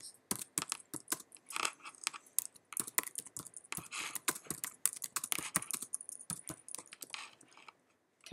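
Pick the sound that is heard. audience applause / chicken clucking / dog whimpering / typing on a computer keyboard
typing on a computer keyboard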